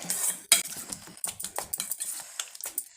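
A spoon clinks and scrapes against a bowl while a bread omelette masala mixture of egg, chilli and salt is stirred, giving irregular close taps and scrapes with brief pauses and no talking.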